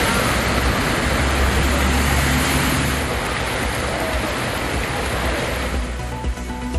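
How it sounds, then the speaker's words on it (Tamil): Heavy rain floodwater rushes along a road in Tiruttani as a loud, continuous broadband roar that eases slightly near the end. "திருவள்ளூர் மாவட்டம் திருத்தணியில் கனமழையால் சாலையில் பெருக்கெடுத்து ஓடிய நீர்"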